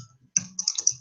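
A short run of close computer keyboard keystrokes, several quick clicks within about a second, alone without talking, entering a class time while registering for college courses.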